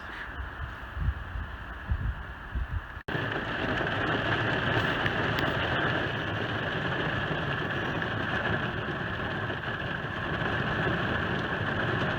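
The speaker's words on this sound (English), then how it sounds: "Wind, rain, and thunder." Steady rain hiss and blustery wind from a big storm at a campsite in Stokes State Forest fill the scene, with low thunder rumbling earlier on; no voices.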